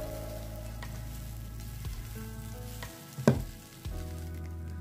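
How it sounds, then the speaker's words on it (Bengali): Rice fries in a pan, giving a steady soft sizzle throughout with a few brief scraping stirs, close and fairly quiet, with no one talking. "তো ভালো করে ভাজছি চালটাকে।"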